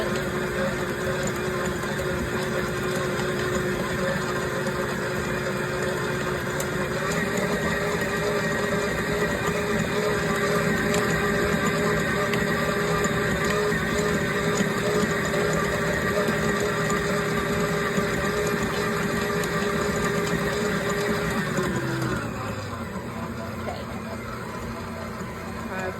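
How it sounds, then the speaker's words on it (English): Electric mixer beating pineapple cake batter in a home kitchen: a steady motor whir holds for about twenty seconds, then winds down to a lower hum near the end. "Still love my mixer"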